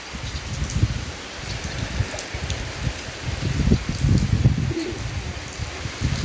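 Storm rain pours down steadily at night in cold weather, a continuous wash of hiss with uneven low patters on surfaces, while a bird coos faintly in the background.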